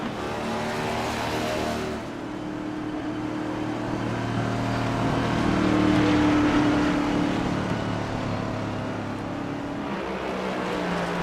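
Race cars rolling onto pit road at an Indy road course, engine drone steady and continuous with a swell of louder revving midway, mid-distance and without talk.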